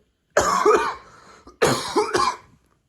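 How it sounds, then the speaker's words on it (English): Two harsh coughing fits, each a quick double cough, separated by a short pause, close and clear with no talking. "forgot to mention I have a cough"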